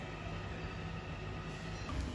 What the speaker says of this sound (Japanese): 鶴見区の工場街方面へと進んでいく電車です。